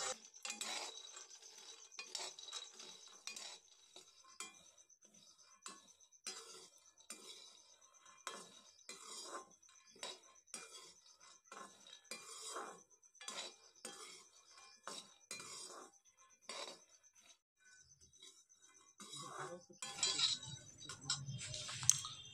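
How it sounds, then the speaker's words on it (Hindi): Peanuts dry-roasting in a pan, scattered light rattles and clinks as the nuts are tossed and stirred, fairly quiet with irregular bursts of activity and a brief louder rustle near the end. "तो चलिए हम मूंगफली को पका लेते हैं।"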